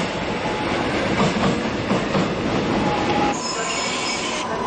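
A subway train at Suwon station at midnight rumbles past with a steady loud roar, rhythmic clicks from the wheels over rail joints and a thin high squeal of wheels building near the end.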